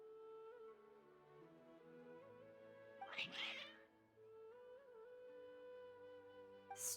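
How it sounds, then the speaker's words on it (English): Cats meow agitatedly in Genshin Impact, one insistent, strained meow rising over soft background music, with a brief second cry at the very end. "Your cats seem pretty worked up."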